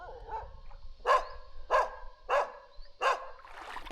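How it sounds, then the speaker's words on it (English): A white dog on a beach at El Nido in the Philippines barks four times in a steady series, sharp yelps at a moderate distance over quiet background. "Can you see the dog, Carol? Yeah, I see a white dog."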